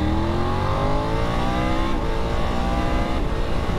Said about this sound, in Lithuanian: ar girdėjot, kaip quickshiftas veikia